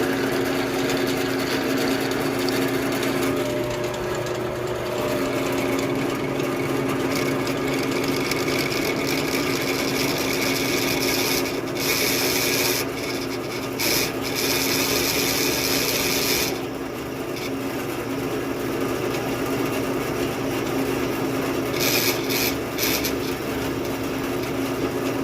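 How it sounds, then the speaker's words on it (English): A power drill drills out hinge bolts with a continuous, loud grinding whine, broken by a few brief dips and changes in pitch. "So I'm gonna get these guys drilled out"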